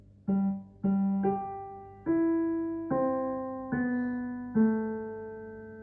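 A keyboard plays a slow Happy Birthday melody line of seven evenly spaced notes over sustained lower notes, each decaying gently, close and unaccompanied by voices.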